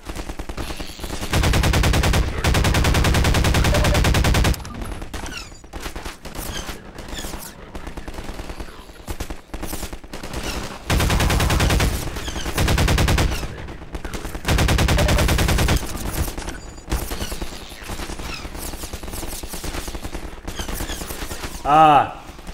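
Automatic weapon fire from the video game Half-Life 2, played in the prison chapter: loud, sustained bursts in several long stretches with choppier shots between them, dense and close throughout.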